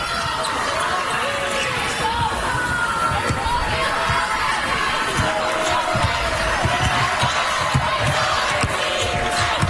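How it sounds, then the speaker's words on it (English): Basketball arena crowd at a UConn vs Notre Dame NCAA Elite Eight game giving a sustained ovation and cheers for departing UConn players, loud and continuous, with an announcer talking over it. "there's the ovation for Azzi Fudd, as well as Sarah Strong"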